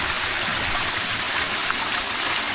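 A clear mountain stream flows and splashes steadily on a hunting hike, a loud, continuous close-up rush of water with no break.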